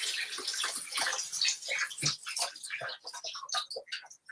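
Running tap water pours steadily over a 15.5-ounce can of chickpeas draining and rinsing in a kitchen, a close, continuous splashing rush with uneven gurgles and no voices.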